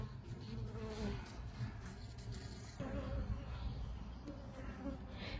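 Honeybees buzzing steadily around an opened hive during an early spring colony inspection, a dense continuous drone close by with no talk over it.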